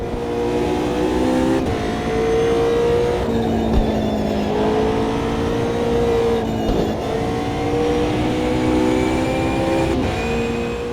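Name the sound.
GT3 race car engine in video game Automobilista 2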